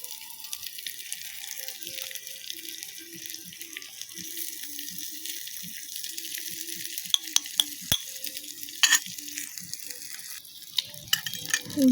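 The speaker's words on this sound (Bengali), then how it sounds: "তারপর কেটে রাখা পুঁই শাকগুলো দিয়ে দিচ্ছি। তারপর দিয়ে দিচ্ছি কেটে রাখা আলু।" Chopped Malabar spinach and potatoes go into a pan, with a moderate sizzle, splashy wet hiss and scattered utensil clatters and sharp knocks.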